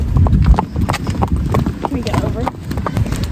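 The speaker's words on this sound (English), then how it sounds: "we're just taking the horses on a walk" Horses walking at a barrel race event, hooves clip-clopping in a steady irregular rhythm close by, with people talking throughout and crowd bustle behind.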